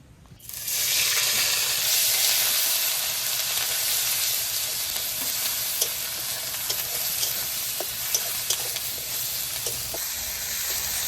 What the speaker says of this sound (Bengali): তেলের মধ্যে পেঁয়াজ বাটাটা কোথাও দিয়ে দেবো।